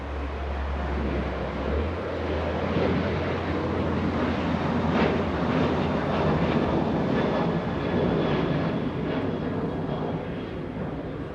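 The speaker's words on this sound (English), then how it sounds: "Austrian Airlines will be making a north arrival." An Austrian Airlines jet from Vienna arrives at Los Angeles International Airport, its engines a steady broad roar holding loud and even throughout, with a low rumble fading early on.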